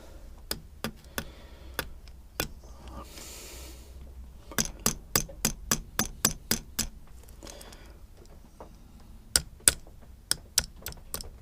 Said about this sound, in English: my little hammer.